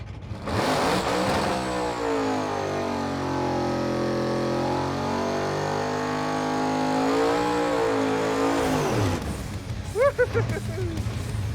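A 1957 Glass Craft drag car named Blasphemi, with coil-on-plug ignition and a dry sump, roars through a pass on fresh rear tires, a loud sustained engine howl rising and falling, then cutting off with brief crackles.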